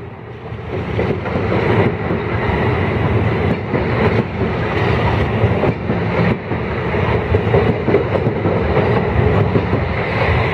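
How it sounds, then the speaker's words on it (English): NJ Transit train 4631 pulls out of Woodbridge station on the North Jersey Coast Line, a steady loud rumble of rolling cars with faint clickety-clack and wind buffeting the microphone throughout. "4631 has departed Woodbridge train station, running on train number 3510 super local to New York, Pennsylvania station"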